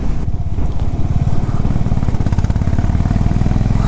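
A Honda CB350 RS motorcycle rides along a hilly mountain road on a Spiti trip, its engine giving a loud, close, continuous low rumble and thumping beat mixed with wind buffeting.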